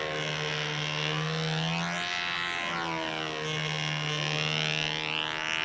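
A buzzing model-plane engine, an Aero 36, drones continuously, its pitch sweeping up and down as it circles past overhead, fairly close and loud.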